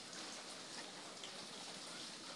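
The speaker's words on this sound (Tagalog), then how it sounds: "Tuloy-tuloy ito ulan hanggang mamayang gabi na naman." Steady typhoon rain falls with a dense, even hiss, heard faintly and continuously with no other sounds.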